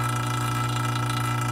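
A vacuum pump runs steadily while evacuating the AC system of a Ford Super Duty truck during a thermal expansion valve replacement, giving a constant, close mechanical hum with a rapid even pulse.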